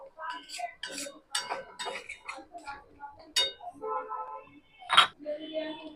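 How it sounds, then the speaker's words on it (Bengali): Masala paneer with yogurt being stirred in a pan over a low gas flame: repeated light clinks and scrapes of a spoon against the pan, irregular and close, with a voice at times. "এইবারে আমি গ্যাসের ফ্লেমটা কমিয়ে বারবার নাড়তে থাকবো।"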